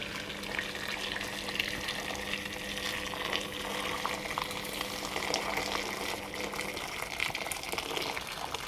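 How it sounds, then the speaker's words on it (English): Water from a kettle pouring into a cooking pot during Christmas food prep, a steady continuous splashing stream running for several seconds at close range with no talking. "I'd use water out the kettle."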